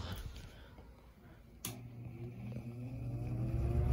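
An old, abused Emerson 3723 air conditioner fan motor, freshly oiled, is switched on. A click is followed by a low hum that grows steadily louder as the motor spins up to speed, with no talking over it.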